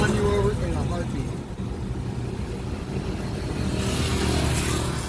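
Buses and traffic rumble past on a Philippine road, heard from a motorcycle trike: a steady low engine drone and road noise, with a brief higher whoosh near the end as something passes, and someone talking over it.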